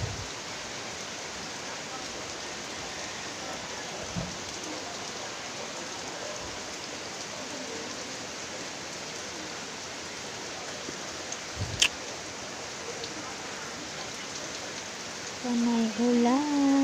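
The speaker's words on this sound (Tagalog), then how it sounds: "Laging nababasa ng ulan." Steady rain pours down on a garden in a continuous hiss, with a few soft drips and knocks, and a brief faint sound near the end.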